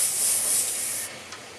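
An airbrush sprays paint from a compressor at about 15 to 20 psi, a steady close hiss that drops off partway through, followed by a faint tail of air.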